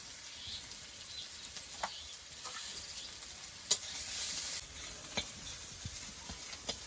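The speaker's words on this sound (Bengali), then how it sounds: "পেঁয়াজটা ভাজা হয়ে গেছে, লাল লাল করে ভেজে নিয়েছি।" Onions sizzling in oil in a pan while a chaow mein is made, a soft steady crackle with a few sharper pops and stirring scrapes, fairly faint throughout.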